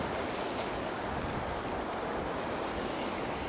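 Ocean surf rolls and breaks continuously on a beach, a dense, loud wash of water with wind buffeting the microphone and no talking over it.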